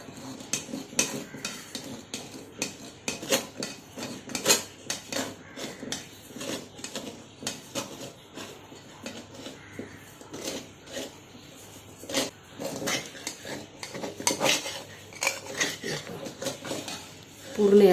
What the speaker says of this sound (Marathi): आता आपण हे त्याच्या कडा काढून घेणार आहोत